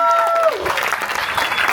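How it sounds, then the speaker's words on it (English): Audience applause at the close of a talk, a dense steady wash of clapping that swells after a brief sustained tone fades out in the first half-second, continuing loud and even to the end. "Let's give him a round of applause."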